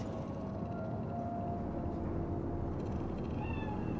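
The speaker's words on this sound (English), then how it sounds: "Fine looking feline." A cat in Cyberpunk 2077's Night City meows a few times, faint and thin against a steady low hum and ambient city drone.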